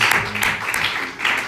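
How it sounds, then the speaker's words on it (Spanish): A church congregation breaks into applause, a dense burst of many hands clapping in uneven waves that swells and dips over a short stretch, with a voice faintly underneath. "Denle el aplauso fuerte al nombre del Señor Jesucristo."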